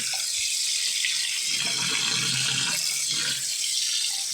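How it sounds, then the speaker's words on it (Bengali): Rice grains are washed under a running kitchen tap for biryani, a continuous loud gush of water with churning, sloshing swirls as the grains are stirred by hand. "এখন আবার কয়েকটা ধোয়া দিয়ে পরিষ্কার করে নিব। এবার চালটা ধুয়ে দিতে আসি।"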